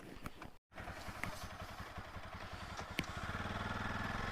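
A Royal Enfield Bullet motorcycle rides by road from Jaipur toward Om Banna. Its close, steady thumping engine beat runs throughout with faint rattle, breaking off for a moment near the start.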